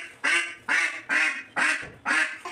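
A female duck quacks five times in a steady rhythm. The harsh, nasal quacks sound close and loud, with short silences between them.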